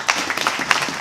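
A church congregation applauds during a Bible debate, a short burst of many hands clapping, loud and close, with a few sharper claps standing out.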